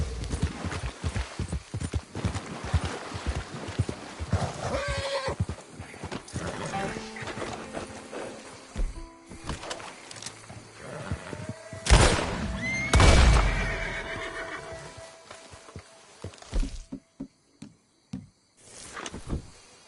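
A horse in the video game Red Dead Redemption 2 gallops with rapid hoof clip-clops, then slows and neighs loudly midway, followed by snorts and scattered hoof thuds.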